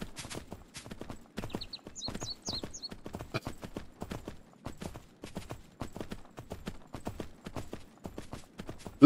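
Horse hooves in Myth of Empires clop in quick, irregular bursts during a taming attempt, fairly close but soft, with a brief whinny-like sound in the middle.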